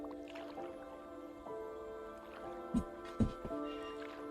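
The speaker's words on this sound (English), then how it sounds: "Taking a sip of water real quick." Two soft, quick sips of water land close to the mic over a quiet, tonal background hum.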